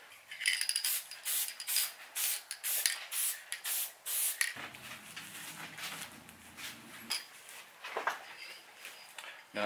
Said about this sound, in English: can spray some of the spray adhesive in there and tighten them up